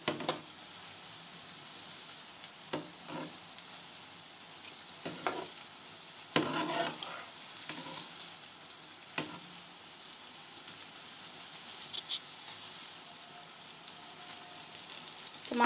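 Besan pakoras for kadhi pakora fry in hot oil with a steady, quiet sizzle, broken now and then by short knocks and scrapes of stirring.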